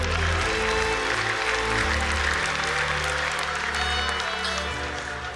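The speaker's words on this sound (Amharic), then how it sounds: "አጨብጭቡ ለጌታ ክብር" A church congregation claps together in worship at an Ethiopian service, a dense, steady wash of applause over low musical tones that holds strong throughout.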